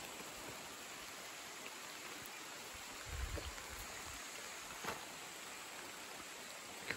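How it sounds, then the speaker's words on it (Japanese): Rain falls steadily in a forest during a sun shower, a soft, even hiss of drops with a few brief louder patters and no voices. "結構降ってきました。"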